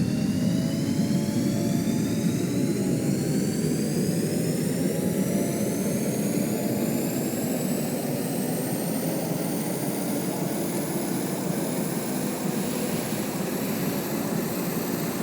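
A steady aircraft engine roar in the game Stormworks, spooling up with rising turbine whine that climbs gradually across the whole stretch, loud and continuous with no talk.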